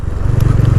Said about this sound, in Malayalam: നമ്മുടെ ഡബിൾ ബാരൽ എക്സോസ്റ്റ് വന്നതിൻ്റെ ഭാഗമായിട്ട് സൗണ്ട് കുറച്ച് നോയ്സി ആയിട്ടുള്ളൊരു സൗണ്ടാണ്